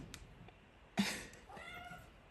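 A new kitten meows faintly in the background of a quiet indoor room, one short cry followed by a softer second call, with no talking.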